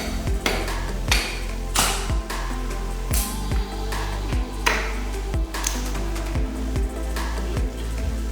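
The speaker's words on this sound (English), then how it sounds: "here he goes popping up tack strips." Carpet tack strips are pried up from a floor in a room, with about a dozen sharp cracking pops and knocks at irregular intervals over a steady low hum, close and fairly loud, with no talk.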